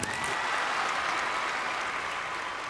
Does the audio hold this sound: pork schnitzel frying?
no